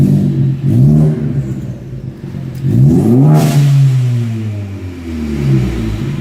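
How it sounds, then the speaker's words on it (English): A Ford Focus ST engine with a catless MBRP turboback exhaust revs loudly with a raw, raspy note, rising and falling in pitch a few times between short idles. "Get in there and rev a few times."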